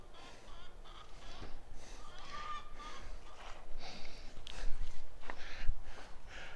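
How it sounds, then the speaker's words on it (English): Narragansett turkeys give faint, honking calls at close range, scattered over a few seconds against a low rustling background. "There's Tom and Jenny, my Naragansette turkeys"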